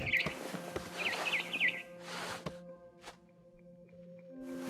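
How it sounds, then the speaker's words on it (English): A barn swallow chirping near a window in the video game What Remains of Edith Finch, giving several short bright tweets in quick succession, followed by soft rustles and a sharp click against a quiet ambient hum, no talking. "Then I heard chirping outside my window. It was a barn swallow going back to her nest."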